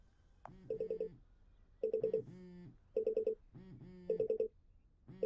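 Telephone keypad tones from a Groundhog Day VR video game, heard as four separate bursts of rapid DTMF beeps, each a quick run of four or five tones with short pauses between bursts, clear and close.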